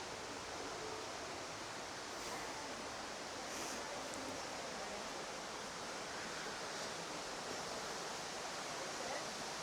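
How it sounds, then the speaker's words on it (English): Continuous rushing water inside an indoor rainforest, a steady hiss of flow heard alone at moderate distance with no break in its even texture. "There's a lot of running water we can hear sounds of now."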